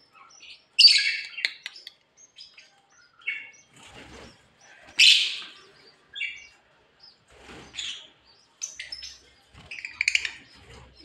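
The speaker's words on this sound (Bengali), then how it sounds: "ঘুম ভাঙে পাখির ডাকে।" Pet birds at a home aviary chirping and calling in short, bright bursts separated by brief pauses, fairly close and with no voices over them.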